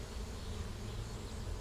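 Honeybees building comb on a frame in a hive make a dense, continuous buzzing hum, close and steady, with no voices.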